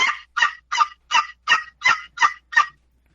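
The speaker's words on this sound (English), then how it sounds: "the Oak Ridge to the Cedar Swamp, which is a little teeny box call with a paddle" Small six-inch cedar box turkey call with a paddle, worked in a run of eight sharp, raspy yelps at an even rhythm, loud and close with no talking.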